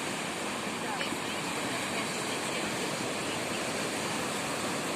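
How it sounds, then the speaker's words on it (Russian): Baltic Sea waves wash continuously in a broad, steady roar of surf, with wind-like hiss and no distinct breaks, heard from the shore; a voice is also present. "Смотрите, какие чайки плавают, какие волны."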